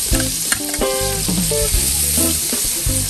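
Onions frying in a cooking pot sizzle loudly and steadily, with crackling spits and stirring scrapes layered over the hiss, close and continuous without talk.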